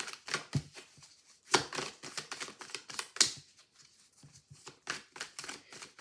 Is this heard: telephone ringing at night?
no